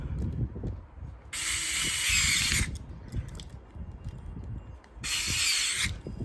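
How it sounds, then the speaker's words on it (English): Two bursts of ratcheting on the bolt nuts of an Uhlmann plug head, each a buzzy rapid clicking run lasting about a second, close and loud against quiet handling noises. "And tighten them both up."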